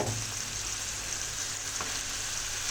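Bitter gourd (ampalaya) frying with tomatoes in a pan for a Filipino ginisa, a loud, constant close sizzle that runs unbroken throughout with no voices.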